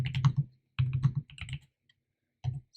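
Computer keyboard typing in short bursts of rapid clicks separated by brief pauses, close and clear with no talking.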